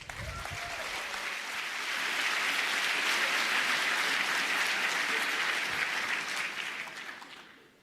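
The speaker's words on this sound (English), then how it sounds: "Please give a warm round of applause to our speakers." An audience at a hacker conference talk claps enthusiastically, the applause swelling to a steady roar for several seconds before fading out.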